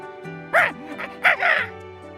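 A crow in the Love and Deepspace video game gives a few short, harsh caws in quick bursts, close and fairly loud over a soft, steady music bed.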